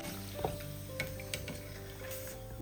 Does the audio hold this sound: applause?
no